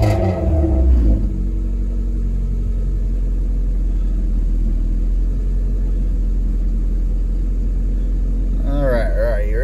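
A warmed-up Honda Civic engine idles steadily with a low, constant rumble close by, after a brief louder burst at the start; voices murmur over it near the end.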